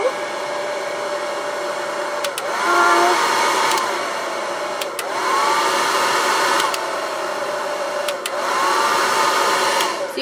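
A T3 Featherweight hair dryer runs on its high setting, a steady close whoosh of airflow and motor hum that swells in three louder surges, each opening with a brief click and a rising whine.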